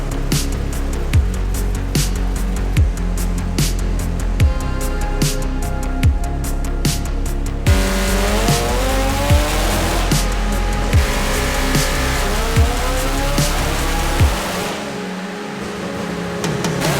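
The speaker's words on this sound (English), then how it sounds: "Then I'm gonna put it on the dyno, run it through, and then we'll be able to hear what this thing sounds like at higher RPM" A modified Toyota Supra engine revs on a dyno, a loud sustained roar with rising and falling pitch sweeps and sharp repeated spikes through the run, ending in a brief drop near the close.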